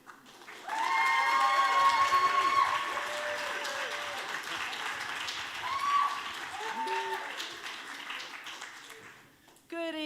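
An audience at an Ignite Liverpool talk night claps to welcome a speaker to the stage. Steady applause fills the room for several seconds and then tapers off, while a voice talks over the clapping throughout.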